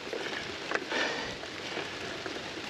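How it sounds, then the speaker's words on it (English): Steady rain falling during a wet, slippery Farmall Hill Challenge bike race, a continuous broadband hiss with a brief louder patter or bump near the middle, no talking. "Yep, it's still raining"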